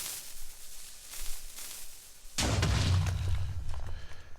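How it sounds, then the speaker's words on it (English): A Minecraft explosion effect played inside Unreal Engine 4 gives a deep rumbling boom that hits suddenly midway and rolls on, loud and close, after a stretch of softer crackling noise. "Now I've created a queue because there's 4 explosion sounds."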